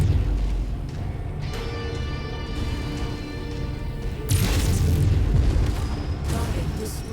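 A target blows up in MechWarrior 5: Mercenaries, a deep booming explosion bursting in partway through over continuous mech engine hum and ambient battle noise, with tonal game sounds earlier.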